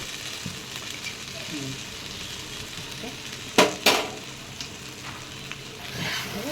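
Egg noodles with soy sauce and tomato sauce sizzle in a pan as they are stirred, with a steady frying hiss, a few sharp scrapes and clinks of a utensil against the pan, and faint talk in the background.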